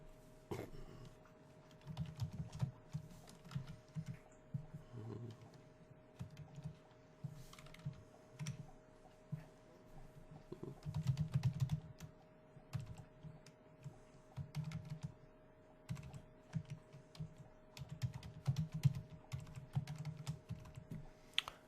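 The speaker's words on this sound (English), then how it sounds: "You want to type the most cryptic password you possibly can and still be able to use it" Someone types a password on a computer keyboard in a quiet room, producing steady irregular runs of soft clicking keystrokes with brief pauses, faint and close, with no one talking.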